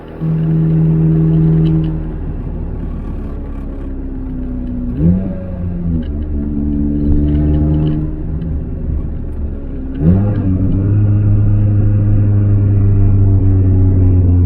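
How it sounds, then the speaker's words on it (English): Nissan S13 Silvia, not fully straight piped and still running one catalytic converter, with a loud engine and exhaust droning close by on a drive, rising and falling in pitch through several gear changes with sharp shifts around five and ten seconds. "It's kind of crazy how loud this car is, even not being fully straight piped."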